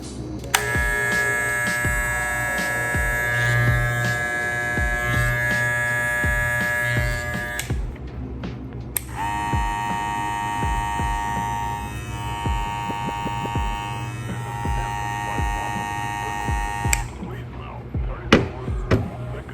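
An Andis T-Outliner hair clipper runs with a steady electric buzzing hum, near and fairly loud, continuing alone throughout with a short pause midway and small clicks and bumps as it is handled.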